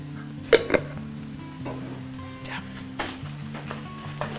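Ground meat fries in a pan, seasoned with merquén, and gets broken up with a wooden spoon. It gives a quiet, steady sizzle with a few sharp scrapes and knocks of the spoon near the start, close and faint, with no talk.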